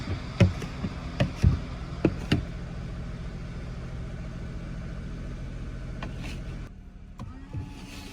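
A car engine idles steadily on a snowy street in Japan, a low constant hum broken by a few sharp knocks and thumps near the start, then the drone drops away abruptly toward the end.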